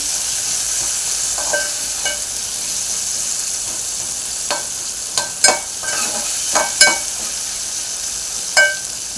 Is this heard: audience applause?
no